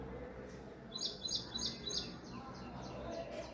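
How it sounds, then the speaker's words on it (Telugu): A bird gives four quick, high chirps in a row, fairly faint, followed by a few softer calls over a low background hum. "బర్డ్స్ అరుస్తూ ఉన్నాయి"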